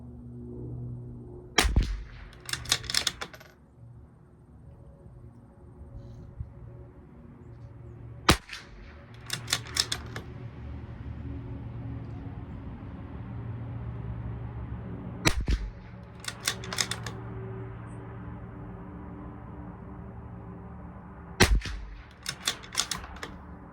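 A Bergara B14R rifle fires single cracks at a long range match, spaced several seconds apart, each followed by a quick rattle of bolt-cycling clicks, with a quiet outdoor backdrop between shots.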